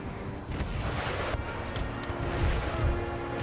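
Artillery fire in Empire Total War booms and rumbles amid a dense battlefield din, with scattered sharp gunshot cracks over continuous low thunder.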